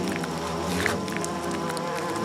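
A continuous, low droning buzz of a giant hornet, steady and close, with a slight wavering in pitch and no voices.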